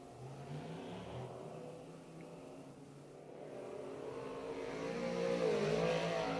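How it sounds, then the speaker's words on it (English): Dirt track race cars come up to speed before the green flag, a steady rising engine roar of several cars that grows louder and nearer toward the end, with no talk. "Cars coming up to speed."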